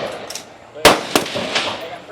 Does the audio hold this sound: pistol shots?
yes